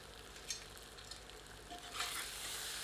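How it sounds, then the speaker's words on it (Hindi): Taro root sabzi being stirred in a pan with crushed chilli and kasuri methi, a soft scraping stir over a steady low sizzle that grows denser toward the end, close and fairly quiet. "पुनः सबको मिलाते हैं"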